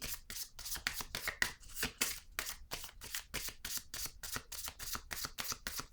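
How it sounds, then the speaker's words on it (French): Playing cards are shuffled, handled and laid down on a surface in a steady series of crisp, close riffles and slaps that repeat throughout with no talking. "Je vais déposer une autre carte ici."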